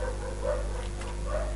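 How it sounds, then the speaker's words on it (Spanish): A dog barks and whimpers faintly in the distance under a loud, steady hum and room noise, the calls blurred and low in the mix. "el perro de mierda, que sigue ladrando"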